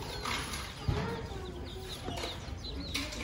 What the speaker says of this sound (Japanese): この子は全部ニワトリなのかな